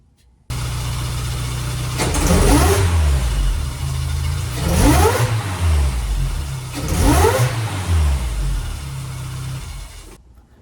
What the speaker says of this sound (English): I'm probably just gonna rev it twice so the neighbors don't kill me.